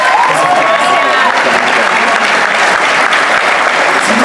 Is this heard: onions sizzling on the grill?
no